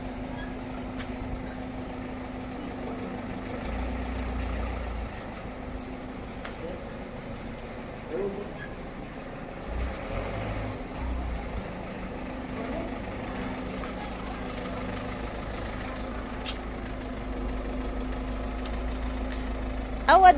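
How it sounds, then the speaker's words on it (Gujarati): A Ford EcoSport's engine runs with a low, steady hum from inside the car, faint and continuous under talk. "મસ્ત ગાડી છે, મને ઇકોસ્પોર્ટ બહુ ગમે છે."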